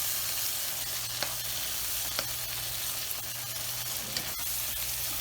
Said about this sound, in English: What we're looking for is just the breaking down or the sweating of the onions initially